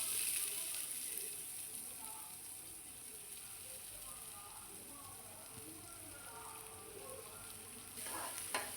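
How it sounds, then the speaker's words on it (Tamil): Chopped onion and garlic sauté in oil with a soft, even sizzle that stays faint and distant, rising slightly at the start and end; no voices. "இப்போ இதை ஒரு 2 மினிட்ஸ் வதக்கி விட்டுடலாம்"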